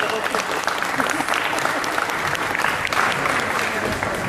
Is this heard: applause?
yes